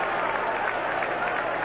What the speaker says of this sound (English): This crowd a little subdued here at KSU Stadium as the third quarter comes to a close